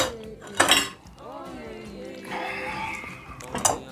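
A knife and other cutlery clink against dishes in two sharp bursts, one near the start and one near the end, with a voice talking between them.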